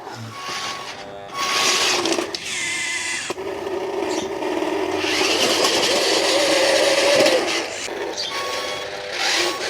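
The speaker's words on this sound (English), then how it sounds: "let's just go take all that gravel and dump it back on the same bit we scooped up" A Double E E591 RC articulated hauler modelled on the Volvo A40G, giving a steady whirring electric motor and servo whine with gravel rattling as the load is dumped, close and continuous.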